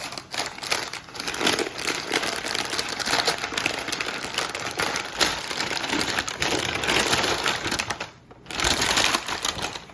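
Smoked brisket being unwrapped, steady close crinkling and rustling of wrapping paper running nearly throughout with a brief pause near the end.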